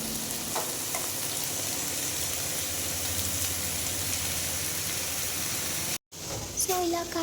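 Ridge gourd pieces with ginger garlic paste and green chillies sizzling steadily in a pan for an egg and ridge gourd curry, a constant even hiss with a brief cutout near the end followed by faint clinks.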